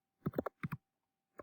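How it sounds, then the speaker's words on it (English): A few quick keystrokes on a computer keyboard as a number is entered, clustered taps, a pause, two more, then a final lone key press, close and quiet. "let me type in a number"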